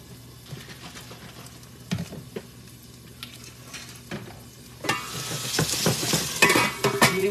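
Squid adobo with tomatoes sautéing in a pan: a soft sizzle builds to a loud, steady frying hiss in the last seconds, with scattered clinks and scrapes of stirring throughout.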